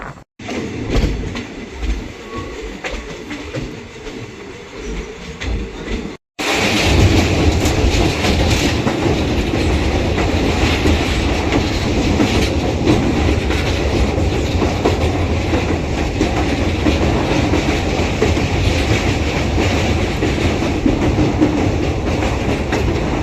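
The 11903 Jhansi Etawah Intercity Express runs on the tracks between Gwalior and Etawah, heard from on board as a quieter stretch cuts to a loud, continuous rumble and rhythmic wheel clatter.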